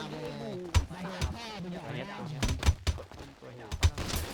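Several sharp gunshots from a video game crack out at irregular intervals, loud and punchy, over someone speaking throughout.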